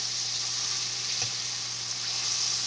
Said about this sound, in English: I like frying, but I try to fry with the best. The peanut oil is a great oil to fry in.